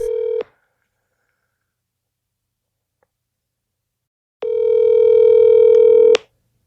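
A phone call placed on speakerphone: a brief tone, a long gap of silence, then a loud steady dial tone that holds for nearly two seconds before stopping abruptly.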